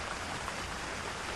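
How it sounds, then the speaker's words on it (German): Steady heavy rain in a horror video game, a dense continuous hiss with no breaks, fairly loud and alone without voices. "Und der Regen ist echt krank."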